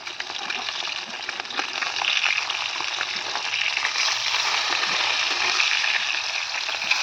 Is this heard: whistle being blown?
no